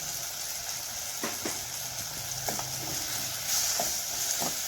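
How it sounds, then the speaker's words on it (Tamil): Chili powder sautéing with onions and tomatoes in a pan for wedding-style sambar gives a steady close sizzle, broken by several sharp scraping stirs of a spoon, with no talk. "மிளகாத்தூளே கொஞ்சம் வதக்கிக்கலாம் வெங்காயம் தக்காளியோட சேர்த்து."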